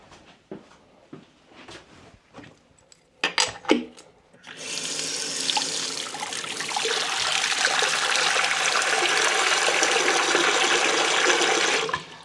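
Water runs steadily from a tap into a basin for feet washing in a Welsh miner's cottage, a loud continuous splashing rush after a few seconds of quieter knocks and handling sounds.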